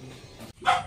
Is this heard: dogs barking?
yes